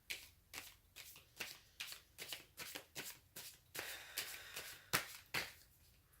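Tarot cards being shuffled by hand in a rapid series of crisp riffling bursts, close and quiet, about a dozen in steady rhythm.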